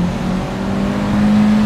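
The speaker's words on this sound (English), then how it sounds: "It sounds like a four-cylinder engine." A 2021 VW T-Roc Cabriolet's 150 hp petrol four-cylinder engine accelerates in sport mode, a loud steady hum whose pitch climbs gradually as revs build, heard from inside the car without talk.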